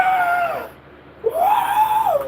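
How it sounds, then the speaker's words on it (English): A person screams loudly at the top of their lungs beside a car on a roadside, two long sustained wailing bursts separated by a short pause, close and intense. "scream at the loudest at the top of my lungs"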